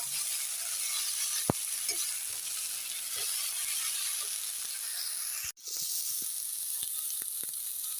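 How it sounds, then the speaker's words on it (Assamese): Spices and tomato sizzling in a hot pan while being fried and stirred, a loud continuous hiss with occasional scrape and clink of a utensil, briefly interrupted once before resuming. "বেছি 2 মিনিট ভাজিম আৰু।"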